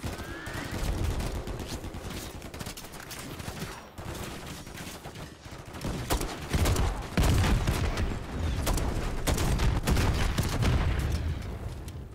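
Heavy automatic gunfire rattles in the Call of Duty MW3 campaign video game, loud rapid bursts and sustained volleys that keep up almost without a pause, with deep booms underneath.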